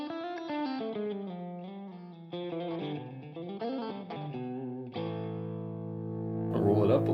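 Stratocaster electric guitar on the mixed middle-and-bridge pickup setting, played close and clear as a run of single notes and a sustained chord, with a brighter strum at the end.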